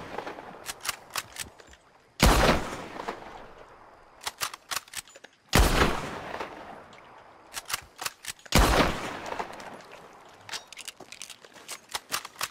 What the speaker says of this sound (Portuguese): Vamos ver essa arma aqui. Vamos testar ela, antes de encerrar o vídeo.